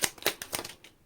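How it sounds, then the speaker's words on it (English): Tarot deck being shuffled: a quick run of four or five crisp, papery riffles about a quarter second apart, close and fairly soft, fading into quiet. "Last shuffle."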